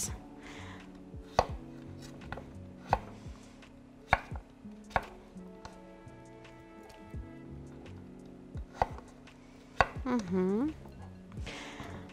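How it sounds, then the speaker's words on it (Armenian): Potatoes are chopped with a knife on a board in a steady series of sharp, close knocks, about one every second and a half, with a faint voice briefly in the background. "Մյուս կարտոֆիլները եւս իհարկե հիմա միասին կկտրատենք եւ կավելացնենք։"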